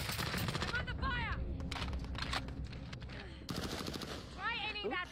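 Rapid automatic gunfire bursts in the video game Warzone Rebirth, repeated volleys of loud cracking shots with short gaps, mixed with game sound effects.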